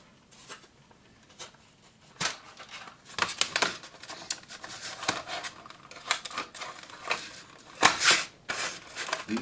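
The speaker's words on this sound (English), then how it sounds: "Let's open up our knife and get her all cut open." A knife cuts and pries open the plastic blister packaging of a Johnny Lightning 1964 Pontiac GTO toy car, giving irregular close crinkles, snaps and scraping cuts at varying loudness.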